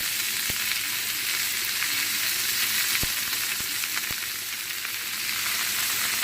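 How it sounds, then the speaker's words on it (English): Washed spinach goes into a hot skillet with browned garlic and sets off a dense, even hiss of sizzling oil, broken by a few sharp ticks, with no voices. "now that we browned the garlic, you want to just start adding your clean washed spinach"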